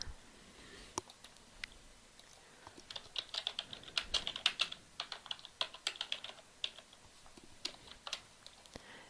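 Quiet computer keyboard typing: a run of light, irregular key clicks, fairly close and soft, with no talking.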